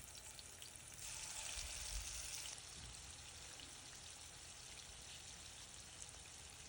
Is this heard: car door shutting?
no